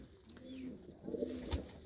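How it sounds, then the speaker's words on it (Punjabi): Pigeons coo inside their coop, a few soft, low throaty calls rising and falling near at hand, with a brief thump partway through and no talking over them. "ਆਪਾਂ ਤੁਹਾਨੂੰ ਸ਼ੌਂਕ ਕਰਾਉਨੇ ਆ ਆਪਣੇ ਕਬੂਤਰਾਂ ਦਾ"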